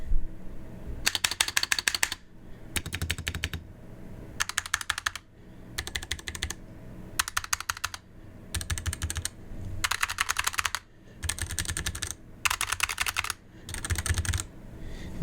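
Two mechanical keyboards, a Razer Huntsman and a Ducky One 3, are typed on in alternating bursts of rapid, crisp clacking separated by short quiet gaps, close and clear with no talking.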